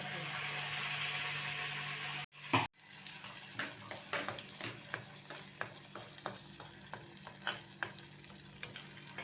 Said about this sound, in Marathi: आता याला अजून तेल सुटेपर्यंत भाजून घ्यायचं